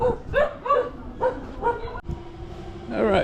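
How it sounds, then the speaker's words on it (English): Several dogs on a farm by a canal in the Philippines barking and yipping close by, with short repeated bursts, a whimpering yelp and a brief pause before more barking. "dogs have found me"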